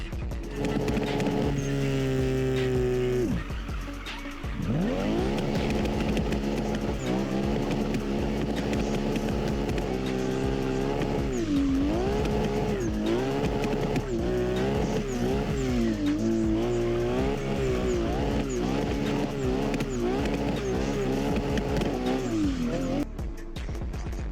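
A car drifts in the Assetto Corsa racing game: a loud engine revs and wails continuously, its pitch rising and falling through gear changes and throttle blips, with tire squeal layered over it and no speech.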